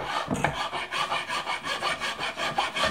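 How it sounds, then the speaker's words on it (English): Steady back-and-forth rasping of a wood rasp shaping and contouring the wooden body of a rebec, an even rhythmic series of close, coarse strokes with no talk. "I'm going to use a rasp to actually do a little more shaping"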